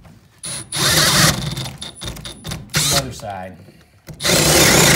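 A power drill whirs through wood with an auger-type bit in two loud bursts, with a few spoken words and scraping sounds in the pause between them.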